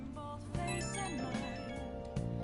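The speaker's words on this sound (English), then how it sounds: "why is my other phone going off?" Phone ringing in the video game Persona 5 Royal, a faint melodic ringtone of repeated tonal notes over game music, with short bursts of other tones layered in and no voices.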